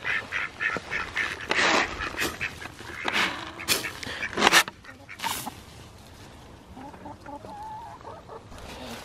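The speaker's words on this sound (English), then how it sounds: "Good morning, chickens." Farmyard chickens cluck and crow close by on a morning pasture, with duck-like quacks and a dog mixed in, busy and fairly loud at first, then thinning to quieter calls.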